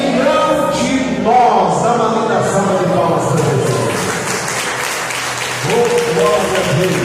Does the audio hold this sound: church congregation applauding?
yes